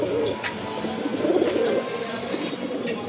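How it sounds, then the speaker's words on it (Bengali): Several large pigeons coo steadily in a low, throaty rumble at a bird market, the soft calls overlapping continuously and fairly close with no talking. "এটা হচ্ছে কিন্তু বড় পায়রা কবুতর।"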